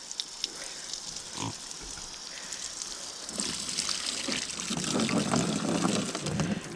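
On a farm, water gushes and splashes as a pool for pigs is filled. Occasional grunts and snorts break in early on, and the rush of water grows louder toward the end.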